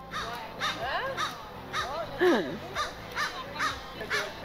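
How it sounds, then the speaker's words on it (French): Several crows caw repeatedly from the woods in an irregular series of harsh calls, some near and loud, others farther off, with overlapping squawks and no talking. "C'est les corneilles, ils sont contents de me voir"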